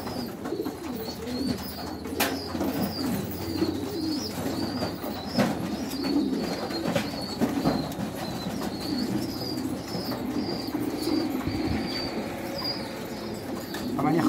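Domestic pigeons, some of them sick, coo repeatedly close by, a low rolling murmur that continues throughout, with occasional wing flaps and faint background noise.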